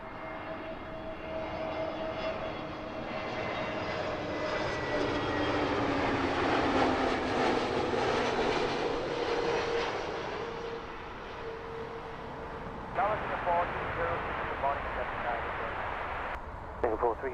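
A passenger airplane lands on runway 09 left at Heathrow Airport, its engine roar swelling and then easing as it rolls out, heard from a distance beneath steady talk.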